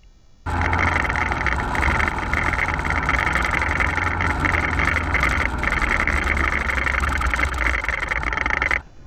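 A motorbike engine on a street tour of Hue, Vietnam, runs at a steady close-up drone after starting abruptly, holding an even level for several seconds before cutting off.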